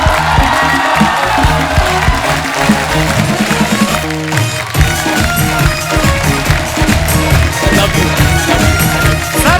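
A studio audience of a comedy show claps and cheers loudly for Tiku Talsania's entrance, with sustained dense applause and whoops over lively music, alone without talk.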